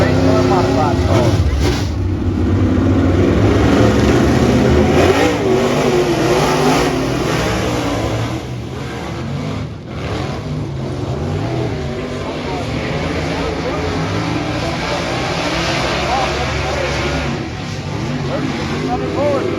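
Modified race car engine at Tri-County Speedway, loud and continuous, its revving pitch rising and falling as the car rolls off on the pole in a heat race, with voices talking over it.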